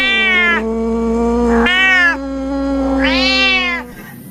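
A toy cat gives three loud, clear electronic meows one after another, each a drawn-out tonal cry with a short gap between, with no voices over them.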